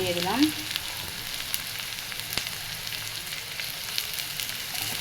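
Garlic paste sizzles steadily in a hot pan while chicken curry is cooked, a dense continuous frying hiss with a brief low clatter near the start and no talking.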